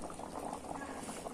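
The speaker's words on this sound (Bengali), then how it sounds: "ঝোলটা তো ফুটছে, তো আগে বজরুর জন্য ঝোলটা তুলে নি।" Curry broth bubbles at a rolling boil in a pot, a close, continuous burble of small pops.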